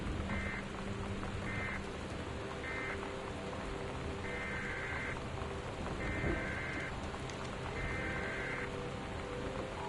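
Heavy, torrential rain in the video game Gone Home: a dense, steady wash of downpour that continues throughout, with short, regularly repeating electronic tones sounding over it.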